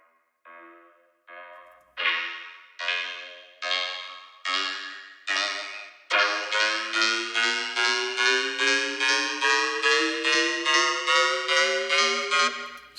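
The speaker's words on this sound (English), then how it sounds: "Just kind of like a rising thing, but it's vocoded to this this sample here." Vocoded Repro-1 synth layer rising in pitch: seven separate stabs with rests between, then a dense run of rapid repeated pulses that climb steadily, loud and bright throughout, with no voices.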